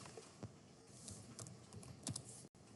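Typing on a computer keyboard comes as quiet, irregular clicks and taps, soft and close, with no talking.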